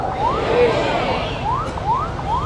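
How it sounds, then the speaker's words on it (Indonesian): An ambulance siren passes on a street, its rising wail repeating in quick sweeps, loud and fairly close over a background of traffic and crowd murmur. "Ambulan lewat"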